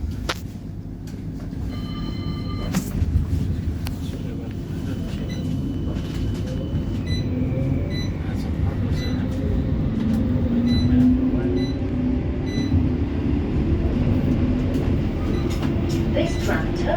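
A West Midlands Metro tram, number 31, pulls away from a stop with a steady low rumble and rising motor whine that continue throughout, along with some faint beeps and clicks.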